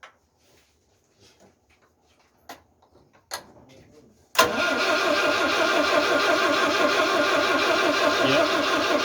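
A 1974 Citroën DS21, unstarted for over six years, gives a few faint clicks and knocks, then the starter cranks it in a loud, steady, continuous churn that runs on without the engine catching.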